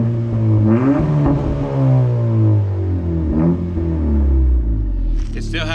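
An 11th gen Honda Civic fitted with a Remark exhaust and PRL intake revs steadily, a loud deep engine drone swelling through several throttle blips, with a brief higher whir near the end.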